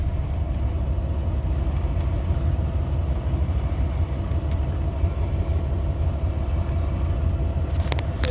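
A truck engine runs with a steady low, dense rumble throughout, close and constant with no talk.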